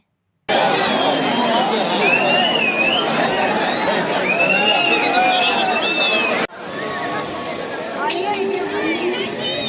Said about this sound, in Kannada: ಎಷ್ಟು ಕ್ರೌಡ್ ಇದೆ ಅಂತ ನೋಡಿ ಗಾಯ್ಸ್ ದರ್ಶನಕ್ಕೆ